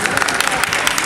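Audience applause at a singing festival in Craiova, a dense, loud wash of clapping filling the whole short moment without pause.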